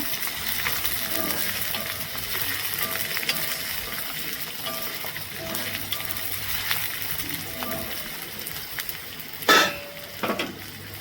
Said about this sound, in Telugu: 3 పచ్చిమిరకాయలు, బాగా బ్రౌన్ కలర్ వచ్చేంత వరకు ఫ్రై చేసుకోవాలండి